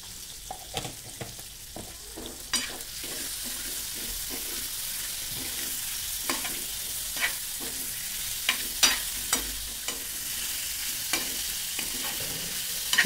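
Chicken liver fries in a pan with a constant, close sizzle. A spatula stirs it in a brisk, irregular rhythm of scrapes and clacks against the metal throughout, with no voices.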